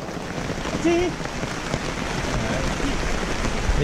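Steady rain pours down in a forest at night, a dense, continuous patter and hiss close by, with a brief voice heard early on.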